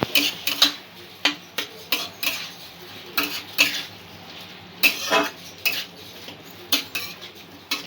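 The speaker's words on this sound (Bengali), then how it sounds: "ভালোভাবে সব কিছু নাড়াচাড়া করে নেব" A spoon stirs tomato chutney with turmeric in a pan, giving a series of sharp metallic clinks and scrapes at an uneven rhythm, fairly close, with no one talking.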